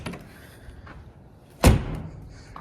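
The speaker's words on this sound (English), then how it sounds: "Just make sure that all doors are shut" A John Deere 6400 tractor door is pushed shut with one loud, close thud and a short rattle, following a few softer knocks.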